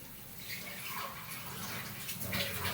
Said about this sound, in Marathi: आता मी याच्यामध्ये पाणी घालते थोडंसं